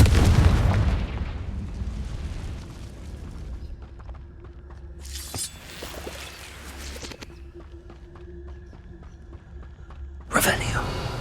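Confringo fire-spell explosions in Hogwarts Legacy, a heavy boom at the start, a couple of sharp bursts midway and another loud blast near the end, set against a low game ambience, with a voice speaking over it.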